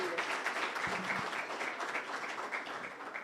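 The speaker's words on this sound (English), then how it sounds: "a round of applause for all the fellows that are up here" An audience applauds the TED fellows at a forum in Nairobi, sustained clapping at moderate distance filling the whole moment, fairly quiet overall with no clear speech.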